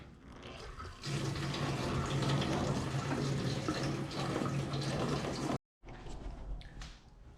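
Gasoline flows from a pump nozzle into a custom fuel cell, a steady rushing fill that starts abruptly, runs continuously, cuts out for a moment and then resumes.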